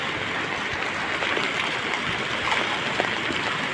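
Floodwater rushes over a bridge and spills into a stream in Kondotty, Kerala, producing a steady, close roar of churning water with small gurgles and splashes, heard on its own.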